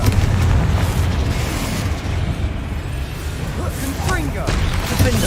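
Confringo spell explosions in the video game Hogwarts Legacy, heavy rumbling booms and fiery bursts that blend into a continuous loud low roar, with faint voices under the din.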